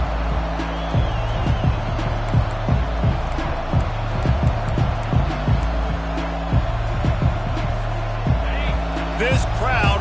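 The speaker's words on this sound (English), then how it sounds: "This crowd bringing an ear-splitting welcome to their visitors." A college football stadium crowd roars loudly to greet the visiting team, a steady thick wall of noise while a commentator talks over it.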